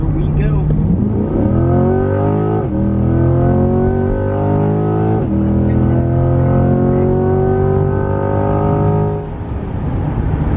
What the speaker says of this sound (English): And now you can rev it up out here.